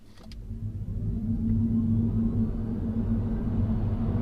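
A Mini Cooper SE electric car accelerates hard from 0 to 60 in normal mode with traction control on, a steady low rumble and road drone building in strength and holding loud for several seconds.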